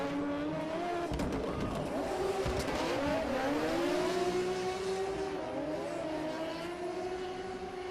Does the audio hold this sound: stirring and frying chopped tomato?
no